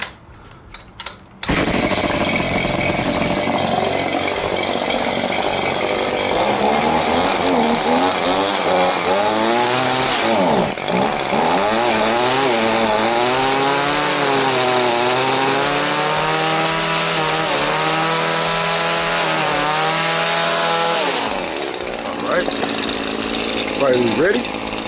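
An Exmark Turf Tracer 52-inch walk-behind mower with its engine running, a loud, steady roar that holds for most of the stretch with a rising and falling pitch in the middle, after a brief quieter start.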